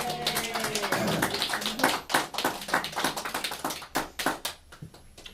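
Wedding guests applaud and cheer right after a couple's first kiss as newlyweds, a dense burst of close clapping with scattered whoops that thins into sparser claps over several seconds.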